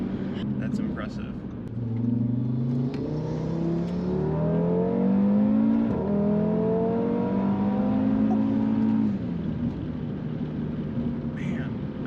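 A 600+ horsepower Audi RS3 accelerating hard, its engine note climbing in rising sweeps and dropping with each quick dual-clutch gearshift, loud and sustained from inside the car, with people talking over the noise.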